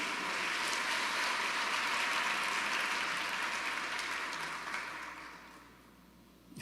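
A church congregation applauding, dense sustained clapping from a large crowd that holds steady for several seconds, then thins and fades toward the end.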